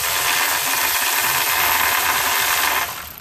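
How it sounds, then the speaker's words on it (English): A powered tool whirs steadily while backing out 10mm intake bolts on a Nissan Versa 1.8 engine. The drone is loud and close, holds for nearly three seconds, then cuts off. "So we're going to start removing these 10mm bolts here."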